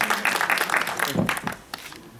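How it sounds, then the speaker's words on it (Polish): Applause for a theatre director at a Polish private-theatre festival before a premiere, a brief burst of many hands clapping indoors that thins out toward the end. "Oczywiście ogromne brawa dla pana reżysera"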